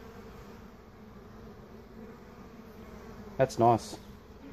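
Bees swarm around a section of honeycomb being cut from a hive, giving a low steady hum under the ambience, with a short louder buzzing burst near one insect and a brief remark from a person.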